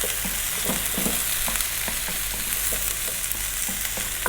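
Courgette and mushrooms stir-frying on high heat give a steady, close sizzle with irregular scraping and stirring clicks throughout.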